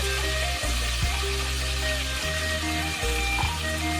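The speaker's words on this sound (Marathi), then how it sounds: "कांदा खोबरं सगळं तळून झालंय." Onion and grated coconut frying in a pan, a steady sizzle with a few soft stirring knocks, close and continuous throughout.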